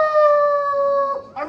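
People mimic a howl, one long sustained steady voiced tone, loud and close, breaking off near the end.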